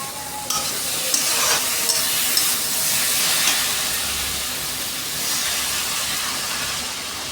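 Vegetables frying in a pan, a steady loud sizzle and hiss with occasional stirring scrapes, continuous throughout.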